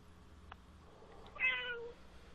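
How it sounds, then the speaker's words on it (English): A single soft cat meow, rising then fading, heard in a quiet room after a faint click. "And that was the cat saying hello."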